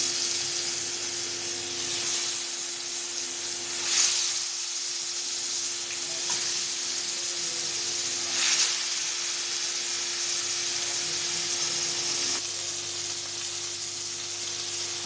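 Pieces of silver carp sizzle in hot oil in a pan, a steady close hiss with a few brief louder bursts as the fish goes in and settles, under a faint low hum.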